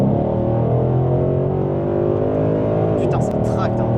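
A Ford Mustang GT/CS muscle car pulls hard with a loud, steady engine drone heard from inside the cabin. Its note shifts sharply near the end and a voice comes in briefly over the engine.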